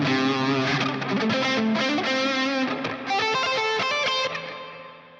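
Distorted electric guitar runs a melodic figure up across three octaves, sustained driven notes stepping upward with a chorus-like sheen, close and alone, the final note fading out.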